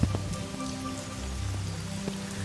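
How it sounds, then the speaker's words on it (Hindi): Heavy, steady rain pours onto surfaces in a cartoon story set on a forest path, a dense continuous patter with scattered drops and no voices. "झुमाझुम बारिश शुरू हो गई।"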